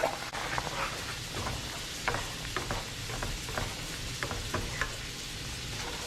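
Canned baked beans warming in a pan of leftover candied-bacon fat give a soft, steady sizzle with occasional light stirring scrapes, close and quiet, with no talking.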